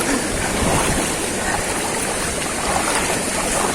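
Continuous broadband rush of a river's flowing water while people wade across it on a hike toward a waterfall in General Nakar, Quezon, steady and close with no pauses.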